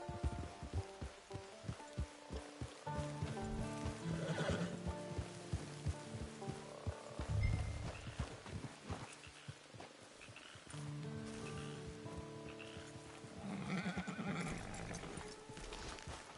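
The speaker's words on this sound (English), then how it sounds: "It's your horse." A horse neighs and whinnies loudly with clip-clopping hooves in the Red Dead Redemption 2 video game. Several whinnies and snorts rise over steady game ambience, and there is no talk.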